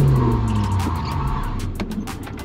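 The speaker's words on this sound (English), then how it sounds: "if you are too aggressive on your steering, you will get the front wheel sliding" Engine noise and tyre scrub as a car pushes into a corner on a course with its front wheels sliding, loud and close, with the engine tone dropping over a rough tyre hiss.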